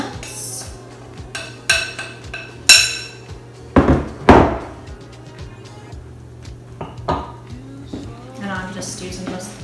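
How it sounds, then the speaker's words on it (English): A small spoon clinks and scrapes against a bowl while mixing banana chocolate chip muffin batter, with several louder metallic knocks between softer stirring and a steady low hum in the background. "Mix that in with my wet ingredients."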